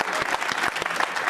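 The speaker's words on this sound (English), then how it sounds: "More claps for that." Audience applause on a BYU television show segment, a dense burst of clapping from a studio crowd, loud and steady throughout with sharp individual claps standing out.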